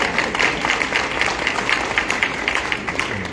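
An audience at a natural hair panel discussion claps steadily, a dense wash of hand claps at moderate loudness sustained throughout.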